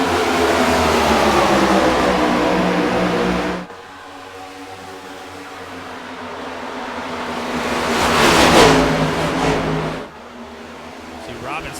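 Stock race cars at Chicagoland in a racing video game, engines droning loudly then dropping to a lower roar, swelling again near the end, with voices talking over the track noise.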